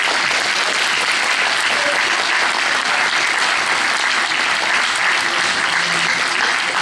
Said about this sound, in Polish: Bardzo proszę o brawa.